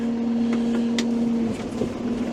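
A tractor drives down a snowy woodlot road, its engine holding a steady low drone with a few faint clunks and knocks over it, close and constant.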